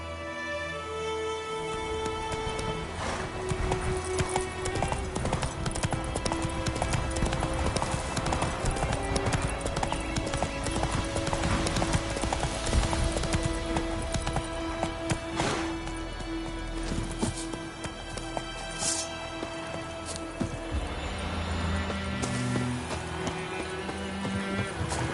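Hooves of Geralt's horse Roach clip-clop in a steady gallop through The Witcher 3: Wild Hunt, thudding close and loud under a dense bed of game music and battle noise, with a brief whinny.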